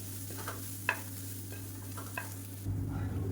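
Cooked rice being stirred with a ladle into podi masala in a pan on a switched-off gas stove, with a few soft scrapes and light taps over a steady low hum, nearby and quiet.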